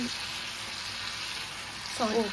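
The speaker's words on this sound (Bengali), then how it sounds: "কষতে দিতে, হ্যাঁ কষতে দিতে হবে মশলাটাকে" Masala spices sizzle in a pan while being cooked down for pabda fish curry, giving a soft, continuous frying hiss with a brief louder clatter near the end.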